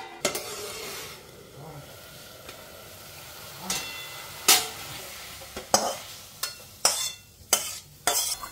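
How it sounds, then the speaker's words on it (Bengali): Garlic fries lightly in a pan. A quiet sizzle runs underneath, and later come a series of loud, close spatula scrapes and knocks against the pan at an irregular pace. "রসুনগুলো ভেজে নিলাম, খুব বেশি ভাজবো না"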